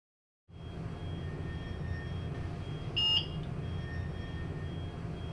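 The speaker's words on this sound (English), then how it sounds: "a beep will sound informing you that your pass was accepted" A bus fare box gives a short electronic beep once as it accepts a pass, over a steady, low engine-like rumble.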